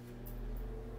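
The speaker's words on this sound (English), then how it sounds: "So I'll put these in the microwave oven again." A microwave oven hums steadily while running, a low constant drone with faint electrical buzz and a couple of brief higher hisses, quiet and close with no talking.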